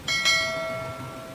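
A single bright notification bell chime rings out twice in quick succession, a clear metallic ding with a long ringing tail, standing alone without any talk.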